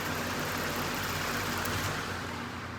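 A vintage British motorcycle engine runs steadily nearby, a dense continuous rumble with an even low throb and no talk over it.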